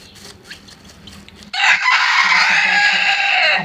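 Naked neck chickens feeding in a backyard pen, with scattered clucks and pecking over light background noise, then a loud, sustained rooster crow close by that fills the second half.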